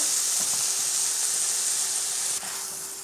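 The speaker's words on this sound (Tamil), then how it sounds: "முருங்கைக்கீரை இதே மாதிரி நல்லா நம்ம வதக்கி எடுத்துடலாம்" Drumstick leaves for a lentil sambar sautéing in a pan, giving a steady, close, bright sizzle and hiss that eases slightly near the end.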